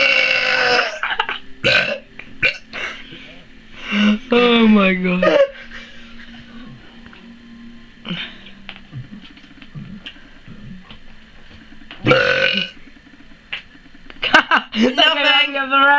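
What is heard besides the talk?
huge loud burps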